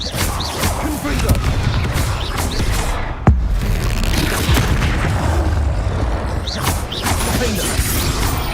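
Confringo fire spell explosions from Hogwarts Legacy, a sharp blast near the three-second mark amid continuous dense game combat noise with booming and mechanical clatter, with voices speaking over the action throughout.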